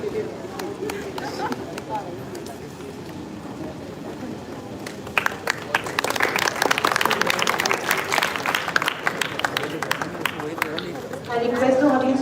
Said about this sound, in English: I request the audience to please cheer up a bit and clap for the felicitation